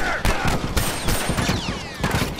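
Shotgun blasts in The Last of Us Factions multiplayer, a dense run of loud broadband bangs over busy game noise, with faint talk underneath.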